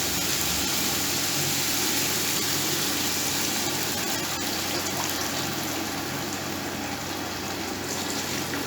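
Water pours steadily into a pot of black gram (kala chana) pulao, a continuous close gushing and splashing that runs without a break.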